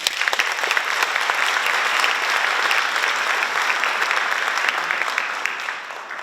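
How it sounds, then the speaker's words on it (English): A school senior awards night audience applauds steadily for about six seconds, a dense, continuous clapping that fades slightly at the end, with no speech over it. "I want to give you all a round of applause"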